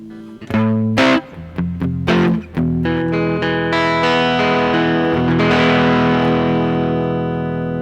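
An electric guitar played through a Fuzz Face pedal with the guitar volume rolled off gives a cleaner, lightly broken-up tone: several separate picked chords in the first few seconds, then a sustained strummed chord ringing out and slowly decaying.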